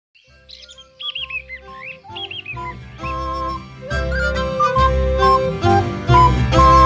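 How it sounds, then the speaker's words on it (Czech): A small pipe whistle plays bright, chirping trills and runs, joined by fuller instrumental music that grows louder as it goes on. "Je mě slyšet na dálku, když hraju na píšťalku"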